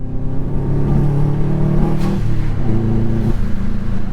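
A Subaru engine revs after a fix to how oil returns to it. It makes a loud, steady mechanical drone whose pitch steps up and down a few times, with no voices over it.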